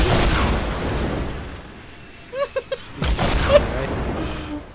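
An explosion from a rocket strikes in the Fortnite battle royale game, a loud burst rolling over continuous game noise, with a short run of sharp pops and another heavy blast following.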